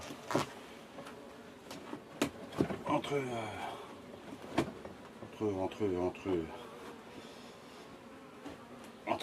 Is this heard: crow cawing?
no